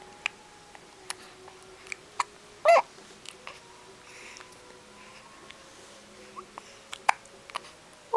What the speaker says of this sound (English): Oh, the hiccups.